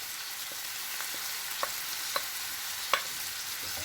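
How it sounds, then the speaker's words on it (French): Chicken quiche filling with parsley and coriander stirred in a hot pan, a steady sizzle underneath sharp, regularly spaced scrapes and taps of a utensil on the pan, with no voices. "Et on va mélanger"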